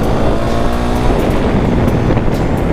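A KTM Duke 390 motorcycle cruises in second gear near a dirt road, a loud, steady engine drone with heavy wind rush over the microphone throughout.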